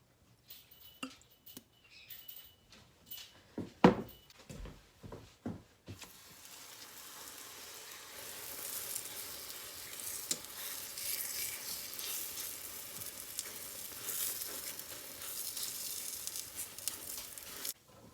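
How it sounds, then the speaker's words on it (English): Pizza dough dropped into oil in a pan sets off a steady, fairly quiet sizzle after a few sharp knocks and clatters of handling at the start. "And then I'm going to put some oil in this and then put the dough directly."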